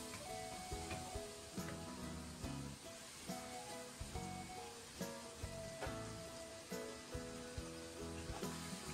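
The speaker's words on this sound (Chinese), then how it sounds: "然后再加入半勺的生抽， 炒匀，" Stir-frying in a wok over high heat after light soy sauce goes in, a continuous sizzle broken by regular scraping and tossing strokes of the spatula, close and fairly quiet, with no one speaking.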